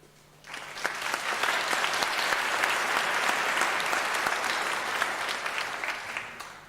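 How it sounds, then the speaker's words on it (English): Audience applause at a university graduation ceremony swells quickly after a quiet moment into a dense, sustained wash of many hands clapping, holding steady for several seconds before gradually thinning out. "Therefore, you deserve a round of applause."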